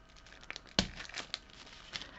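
A toothpick pushed through several layers of paper wrapped around a licorice stick, giving one sharp crackling pop amid softer paper crinkles and rustles, close and fairly quiet.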